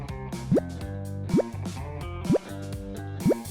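Seeds being watered in a video game, four evenly spaced water plops with a rising splash tone over steady cheerful background music.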